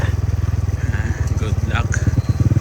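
Motorcycle engine running on a dark provincial road at night, putting along with a steady low throbbing pulse while people talk nearby.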